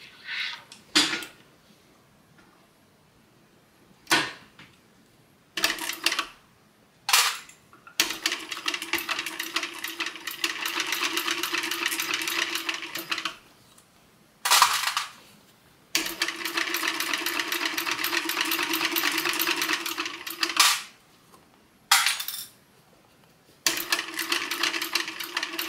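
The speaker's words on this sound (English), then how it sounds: "We're just stitching the very edge to close it." A sewing machine stitching along the edge of a pocket to close it, running in several long whirring bursts separated by pauses and a few short clicks.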